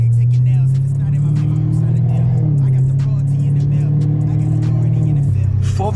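A 700-horsepower Chevrolet Camaro 2SS engine drones loud and steady from inside the car, the pitch shifting slightly a couple of times as it pulls, with a voice speaking briefly over it.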